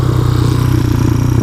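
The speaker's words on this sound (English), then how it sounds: "This thing idling a little high or what?" A motorcycle engine idles a little high close by, a loud, steady, fast-pulsing putter with an even rhythm throughout and no voices over it.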